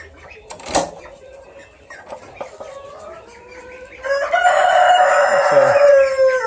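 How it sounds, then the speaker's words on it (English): Small leghorn roosters in a barn pen with ducks, one crowing loudly and close while others cluck and squawk in short bursts, ending in a long sustained crow. "small leghorn roosters"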